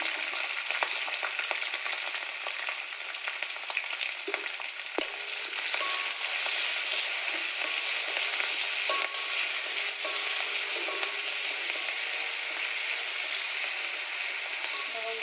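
Onion, green chilli and garlic frying in oil for a chicken curry: a loud, dense hiss of sizzling fills the whole stretch, growing stronger partway through, with a few faint utensil taps and no voices.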